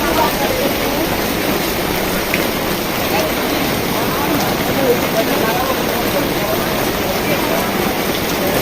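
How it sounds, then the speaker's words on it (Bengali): Heavy rain pouring at an old palace grounds in Sonargaon, Bangladesh, a loud, steady, close wash of falling water that continues unbroken throughout, with no distinct voices. "অনেক জোরে বৃষ্টি পড়তেছে"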